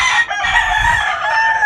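A black hen clucks and calls in a drawn-out, wavering tone close to the microphone, continuous through the moment, with faint low rustling beneath and no talking.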